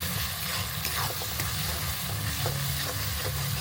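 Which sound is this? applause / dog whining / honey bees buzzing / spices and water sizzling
spices and water sizzling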